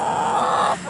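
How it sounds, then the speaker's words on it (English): A black sex link hen, a big heavy Rhode Island Red and Barred Rock cross, gives a single loud, close drawn-out cluck or squawk that cuts off abruptly near the end. "they are half Rhode Island red, half barred rock. So they are big, heavy chickens."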